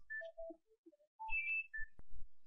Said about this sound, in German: So, Entschuldigung, das war das Telefon.